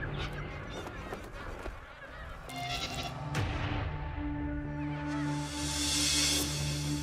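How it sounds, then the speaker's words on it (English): Magpie geese at one of Australia's largest gatherings in Kakadu, a dense chorus of many overlapping honks and calls, some near and loud, others blending into a continuous background clamor. "One of Australia's largest gatherings of magpie geese."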